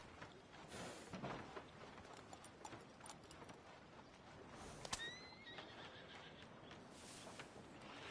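A horse in the video game Red Dead Redemption 2 whinnies loudly a couple of times over soft, steady hoofbeats and faint background ambience, fairly quiet overall.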